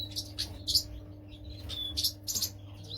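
A pair of canaries, a cinnamon hen and a yellow cock, in a breeding cage give short bright chirps in scattered bursts, close and fairly clear over a low steady hum.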